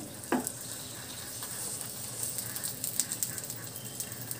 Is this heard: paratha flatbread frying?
yes